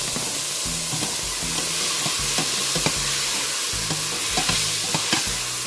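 Tomato frying with translucent onion in a pan for a clam and tamarind soup, giving a steady loud sizzle with repeated scraping stir strokes from a utensil throughout.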